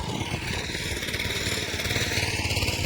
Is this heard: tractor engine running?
yes